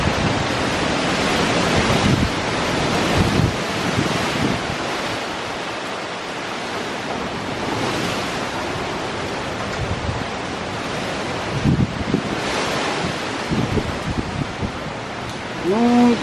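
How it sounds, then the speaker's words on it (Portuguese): Strong hurricane wind from Hurricane Ian in Orlando roars steadily outdoors, buffeting the microphone with rushing gusts throughout, with brief faint voices and scuffs near the end. "Muito vento."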